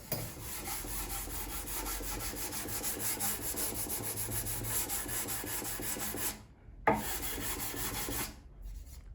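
Repeated rasping strokes of a sanding block rubbing across a wooden door threshold, close and rhythmic, pausing briefly near the end before resuming.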